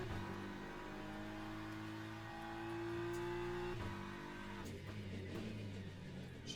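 BMW M4 GT3 race car in Le Mans Ultimate at Sebring, engine note held steady then dropping under braking before revving back up with rising harmonics as it accelerates out, loud and continuous throughout.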